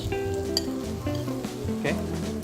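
Tomatoes sizzle in a frying pan at a cookware demonstration, a moderate, steady frying hiss with a few sharper spits, heard beneath a steady tonal background.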